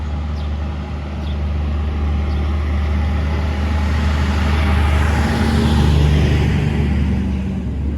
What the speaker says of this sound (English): that truck just went by